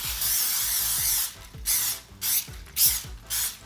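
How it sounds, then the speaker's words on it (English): Spray butter from a can hissing onto a plate in several short bursts, close and fairly quiet, with clicks and rattles from the nozzle between sprays. "We have to spray our plate really well."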